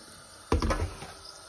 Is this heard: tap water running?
yes